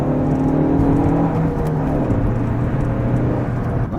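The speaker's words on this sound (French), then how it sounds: "Et là, pied plancher." A Fiat Barchetta pulls uphill at full throttle, its engine drone loud and close and holding a steady whirring tone, with no one speaking over it.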